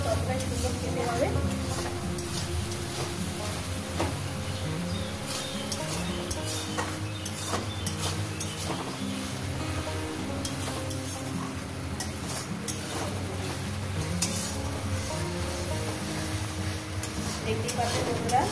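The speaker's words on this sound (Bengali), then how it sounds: "আমি কীভাবে মশলাটাকে কষিয়ে নিচ্ছি" Spice paste with tomato is sautéed for a Bengali fish curry, frying in a pan with a steady sizzle. Frequent scraping stir strokes and ticking clatters sound throughout, close and continuous.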